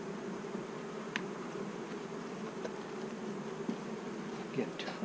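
Honey bees buzzing around a hive during robbing, a continuous low droning hum with occasional louder passes of individual bees close by, outdoors and without speech.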